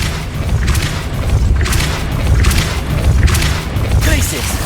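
A Depulso force spell lands in Hogwarts Legacy, delivering heavy booming impacts that swell and fade in repeated waves while a voice calls out over the loud game sound.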